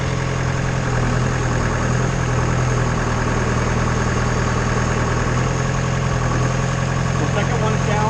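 A Schwing BPA500 concrete pump's engine idles in a steady, loud mechanical drone with a low throb, running continuously through the whole stretch while a voice talks over it.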